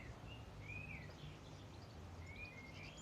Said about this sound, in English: You can hear the bird song, it's beautiful today.